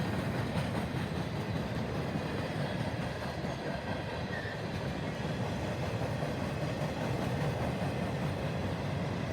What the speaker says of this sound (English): M442 was hauling some really rare train cars